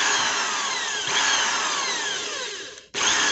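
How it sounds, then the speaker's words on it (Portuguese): A power drill with a thin iron bit bores into a powdered milk tin, a loud steady whine with shifting pitch that dips and cuts out briefly near the end before starting again. "deu certo furar com a furadeira"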